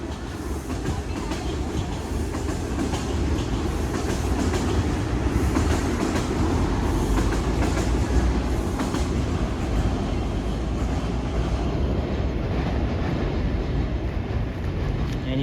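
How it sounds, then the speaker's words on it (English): Westbound Toronto subway train running past on the tracks, a continuous loud rumble with rhythmic clickety-clack of wheels over rail joints, sustained throughout and tapering slightly near the end. "And the westbound train."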